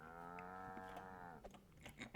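A single long, low cow moo from a barn at an inn in the game DDO, steady and harmonic for over a second before breaking off, quiet, followed by faint clicks and ticks.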